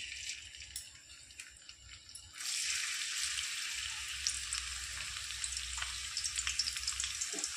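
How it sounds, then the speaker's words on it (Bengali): Chopped ginger and garlic hit hot oil in a wok: after a quiet opening with faint clatter, a bright, steady sizzle bursts in and continues with small crackles and pops. "এবার আমি আদা কুচি আর রসুন কুচিটা ভেজে নেব।"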